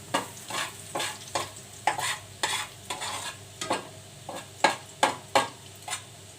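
Garlic fries and browns in a pan for Cajun seafood fried rice: a soft sizzle under quick, regular scraping strokes of a spatula, about a dozen sharp stirs in steady rhythm.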